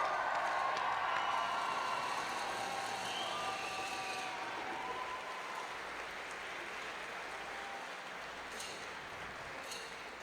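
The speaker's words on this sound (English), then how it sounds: "I think we can have a round of applause for all your athletes" A crowd at the opening ceremony of a youth climbing world championship applauds the athletes, loud at first and then slowly thinning, with scattered claps, faint cheers and a few whistles.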